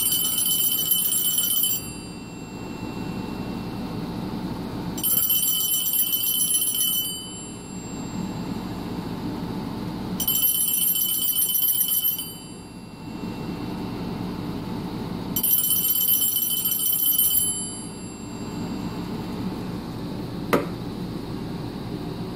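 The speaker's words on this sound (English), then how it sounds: "this one will be the Radio Shack 43175 mechanical bell ringer" A Radio Shack 43175 mechanical telephone bell ringer rings indoors in a cabin in four long bursts of shrill metallic clanging, each about two seconds long, separated by roughly three-second pauses, loud and close with no talking.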